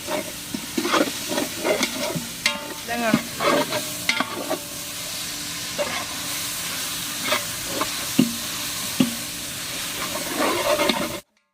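Tomatoes sizzle and hiss steadily in a hot pan for mutton biryani while a utensil stirs and scrapes with repeated clinks and scuffs, close and fairly loud.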